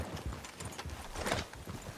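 Horse hooves clip-clopping in Red Dead Redemption 2, a quick irregular trot of hoofbeats moderately close but fairly quiet, with a brief whinny-like sound partway through and no talk.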